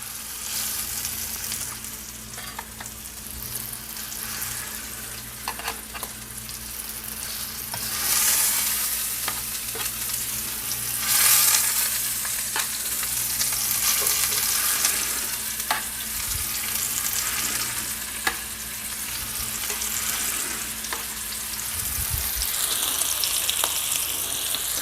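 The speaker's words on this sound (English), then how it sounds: "I want to sear, want to get a good crust on all sides, and we're not gonna overcrowd the pan." Swedish meatballs sear in a frying pan in an uncrowded batch, making a continuous, fairly loud sizzle with occasional faint clicks and a low background hum for about 25 seconds, without speech.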